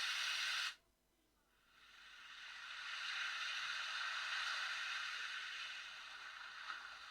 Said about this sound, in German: Meeresbrandung.